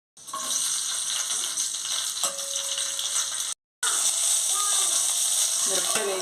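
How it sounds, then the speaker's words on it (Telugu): Green chillies fry in a little oil with a continuous close sizzle that briefly cuts out and resumes, along with faint stirring, and no words spoken. "కొంచెం ఆయిల్ వేసుకొని మిరపకాయలు వేయించుకోవాలి"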